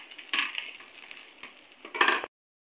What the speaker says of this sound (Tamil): இது வந்து இப்படி மடக்கி ரெண்டு சைடும் நல்லா வேக விட்டு எடுத்துக்குவோம்.